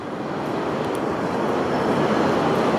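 Subway trains rumble along the lower deck of the Manhattan Bridge in New York City, a steady broadband roar that holds at a loud, even level with no talking over it.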